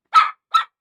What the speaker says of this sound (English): Don't bark with her.